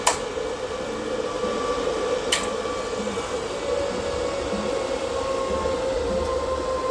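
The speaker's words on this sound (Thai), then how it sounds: "เสียงพัดลมค่อนข้างดังนะครับ" A loud fan drones steadily throughout, a continuous whir with a few faint tonal whines, beside an electrical power-supply test setup with mixed sources and a diode bridge; no talk.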